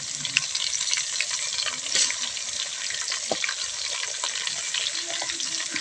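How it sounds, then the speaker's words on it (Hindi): Onions fried golden brown in a pan with ginger garlic paste stirred in, giving a steady close hiss of sizzling oil with scattered clicks and scrapes of stirring throughout. "मिक्स कर दी अदरक लहसुन का पेस्ट"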